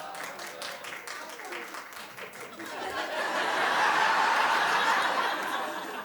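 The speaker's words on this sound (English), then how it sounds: "Clap if you do." Studio audience on a daytime talk show breaks into clapping and cheering that swells midway and holds steady, loud and dense, after a stretch of murmuring crowd noise.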